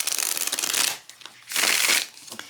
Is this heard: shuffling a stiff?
yes